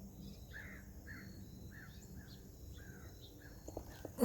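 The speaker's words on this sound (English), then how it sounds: "Here's some crows." Crows call in a steady series of short repeated notes, faint and somewhat distant, over low outdoor background noise.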